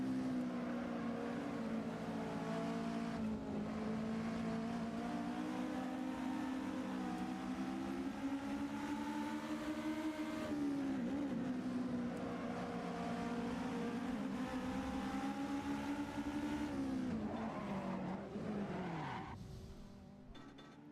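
Race car engines drone and tires squeal as cars drift in the racing game Assetto Corsa, a steady loud engine whine rising and falling in pitch with sustained skidding, fading toward the end.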